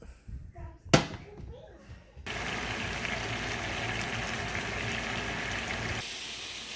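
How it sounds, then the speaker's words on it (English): Burger meat cooking on a hot home stove, a steady broadband sizzle that starts abruptly and holds loud and even, after a brief clatter and a voice at the start. "And Daddy's going to cook the meat."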